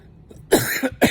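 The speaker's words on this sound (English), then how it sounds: "I'm going to start coughing soon" Two harsh coughs, one longer burst followed by a short second one, close and loud with no talking.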